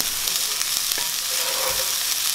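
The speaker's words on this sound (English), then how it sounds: "Yeah, you hear the sizzle." Onions sizzling in a hot pan over medium-high heat, a loud, dense and continuous hiss with small pops and crackles close up.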